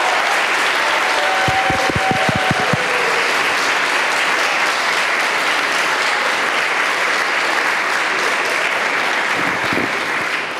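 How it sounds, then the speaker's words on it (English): An audience at a Christmas church presentation gives a round of applause for the Sunday catechism school, loud, even clapping sustained throughout with a brief tonal sound near the start. "how about another round of applause for our Sunday Catechism School"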